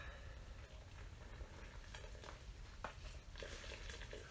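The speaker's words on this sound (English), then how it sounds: "He's been boiling away now for about an hour." A deer skull boiling in a pot of water: a low, continuous bubbling simmer with faint crackles and occasional soft knocks, very quiet and steady throughout.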